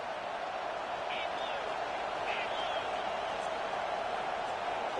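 Steady roar of a football stadium crowd cheering, a dense, constant wash of noise throughout with faint whistle-like calls rising briefly above it.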